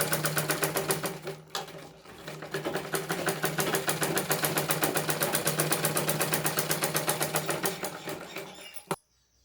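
Sewing machine stitching blouse lining, a fast steady run of needle clatter that carries close and loud for most of the stretch, dipping briefly and then stopping abruptly near the end.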